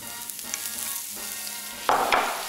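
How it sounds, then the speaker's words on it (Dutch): Butter sizzles and fries in a pan, a steady crackling hiss that grows louder and more spattering near the end, heard up close without talk. "Boter in de pannen."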